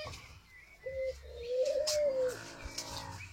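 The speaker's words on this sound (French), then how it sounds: "c'est mon mâle panaché. Bon, il a eu peur, mais voilà, il se remet à chanter" A variegated male bird in a breeding setting sings a soft, drawn-out, cooing call, close by and heard on its own.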